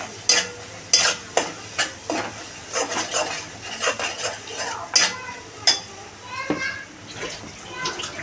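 Gathiya sev mixture with chaat masala sautéing in a pan, with sharp clattering spatula strikes and scraping over a soft sizzle, close and irregular, and a voice speaking intermittently.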